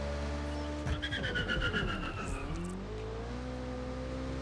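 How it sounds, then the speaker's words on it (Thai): A car engine in Watch Dogs: Legion roars steadily, rising and falling in pitch through revs and quick gear changes, fairly loud with no voices. "ชอบเสียงเปลี่ยนเกียร์จริงๆ เหมือนแบบทุบคอนโซลรถอะปุกปักปุกปัก"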